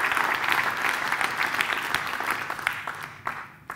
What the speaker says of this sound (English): Big round of applause for Team London.